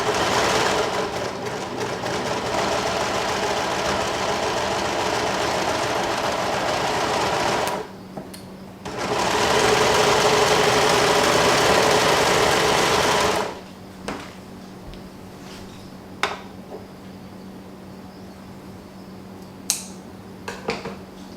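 A serger (overlocker) with a gathering foot stitches fabric strips, a loud steady mechanical whir running for about eight seconds, pausing briefly, then another five-second run before dropping to quiet handling noises.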